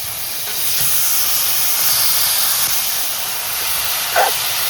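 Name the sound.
wild mushrooms sautéing in homemade red masala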